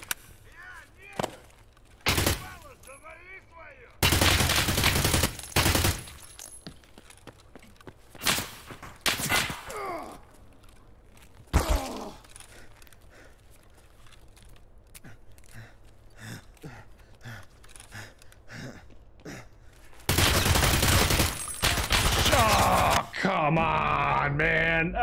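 Gunfire in the shooter game Escape from Tarkov comes as scattered, loud broadband bursts, some single shots and some longer sustained volleys, separated by quieter stretches with faint movement and occasional talk.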